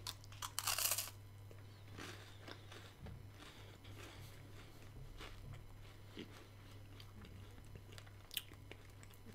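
Someone bites into a MyProtein chocolate protein wafer, starting with a loud crinkle of the wrapper, followed by soft crunching and chewing close to the mic over a steady low hum.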